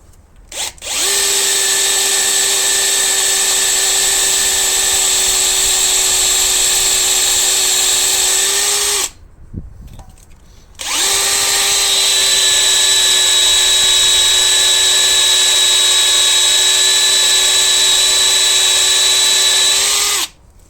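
A power drill with high-density HSS bits bores into an anti-theft wheel lock nut, producing a loud, steady high whine that runs for about nine seconds, stops briefly, then resumes just as strongly until the end.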